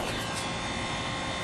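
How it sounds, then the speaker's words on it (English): Outdoor air conditioning units run with a steady, dense mechanical hum and broadband whoosh, constant and fairly loud throughout with no breaks. "We got our ACs running out here."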